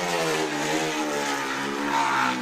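A moped fitted with a chainsaw engine revs with a steady, buzzy high-pitched drone, held close and fairly loud and rising slightly toward the end.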